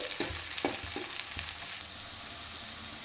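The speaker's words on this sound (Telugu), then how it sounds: "ఇలా ఉల్లిగడ్డ, పచ్చిమిర్చి, మసాలా దినుసులు వేసుకొని మంచిగా అవి బ్రౌనిష్ కలర్లో వేగేదాక వేయించుకోవాలి" Onions, green chillies and whole spices fry in hot oil in a pan for a chicken gravy curry, a dense, close sizzle with a few sharp stirring knocks early on.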